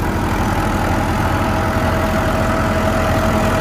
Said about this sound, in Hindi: बिल्कुल लोड फ्री ट्रैक्टर चल रहा है।